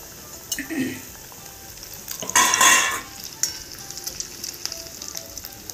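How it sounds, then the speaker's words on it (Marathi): Chicken leg pieces coated in rice flour, maida and cornflour frying in hot oil, giving a steady soft sizzle with a louder splashing burst as pieces go in, then clinks and stirring over the bubbling. "तर आता आपल्याला हे छानपैकी ह्याच्यामध्ये तळायचे आहे"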